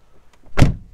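A short mechanical click followed by a single solid thunk, close by, as the driver's door of a SEAT Ibiza 1.4 hatchback is opened.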